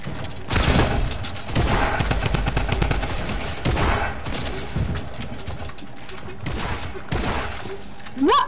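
Dense, rapid gunfire from the Fortnite video game, bursts of shots and thuds running almost continuously at high loudness, with a player's voice talking over parts of it.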